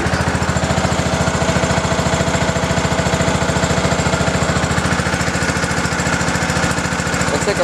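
A 1986 John Deere Hydro 165 lawn tractor engine idles close by after a cold start, a loud, rapid, even chugging pulse that holds steady throughout.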